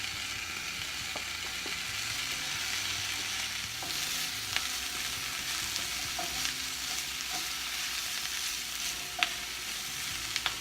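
Broccoli and lemon zest sauté in olive oil in a pan for a lemon kale pasta, a steady close sizzle broken by occasional scraping clicks of a utensil, no talking.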